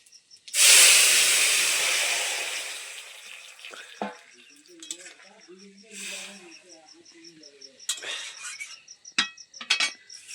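Spices for lauki (bottle gourd) dal hit hot oil in a village kitchen, giving a loud sudden sizzling hiss that fades over a few seconds. Talk, soft clinks and scrapes follow.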